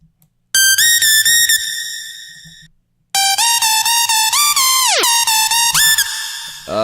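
A pitched-down dubstep laser synth patch built from modulated oscillators, sounding as loud bright whistling tones in two bursts, with a short silent gap between them, pitch swooping downward midway and then recovering.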